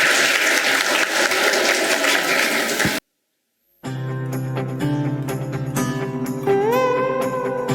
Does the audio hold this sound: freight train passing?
no